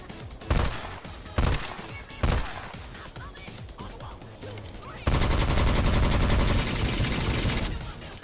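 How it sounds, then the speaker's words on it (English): Fantasy gun in the video game Highguard firing repeatedly, loud sharp shots in quick bursts, then a sustained roar of continuous fire, with no talk over it. "check out what this gun sounds like and what it looks like when it fires"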